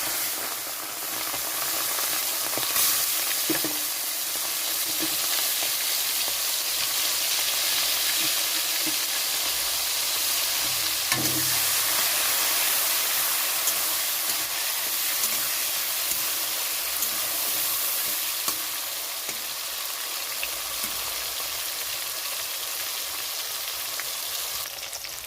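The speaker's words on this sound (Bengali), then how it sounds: "কড়াইতে সর্ষের তেল গরম হয়ে গেছে, এখন আমি চিংড়ি মাছগুলো ভেজে নিচ্ছি" Prawns rubbed with salt and turmeric fry in hot mustard oil in a wok, giving a steady, even sizzling hiss that runs close and unbroken throughout.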